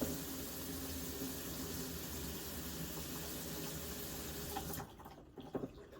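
Hot water runs steadily from a tap onto a hose during camper black tank cleaning, a constant faint hiss and splash that cuts off near the end, followed by a few small knocks and clatters.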